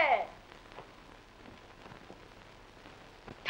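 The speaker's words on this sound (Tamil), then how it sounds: "இடி இடிக்கும், மின்னல் மின்ன, மழை பொழியும்" Steady rain patters on a surface in a broadband hiss, with a louder burst at the start and near the end, under a faint background murmur.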